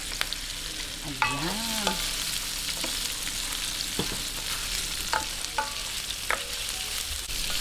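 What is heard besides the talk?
pork being sautéed in a pan for pancit miki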